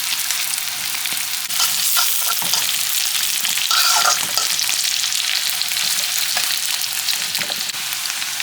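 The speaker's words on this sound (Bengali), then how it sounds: "পেঁয়াজের সাথে কয়েকটা কাঁচামরিচ দিয়ে ভালোভাবে ভেজে নিচ্ছি।" Onions and green chillies frying in a pan, a steady loud sizzle with occasional stirring scrapes throughout, no voices.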